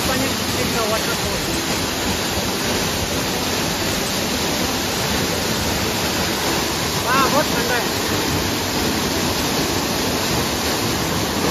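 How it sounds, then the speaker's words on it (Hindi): Waterfall in Arunachal Pradesh, a constant loud rushing roar of falling water filling the whole scene, steady and close with no pauses. "तो चलो ये हम लोग का कुई पान्यर डिस्ट्रिक्ट का वाटरफॉल"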